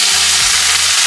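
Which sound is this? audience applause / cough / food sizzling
food sizzling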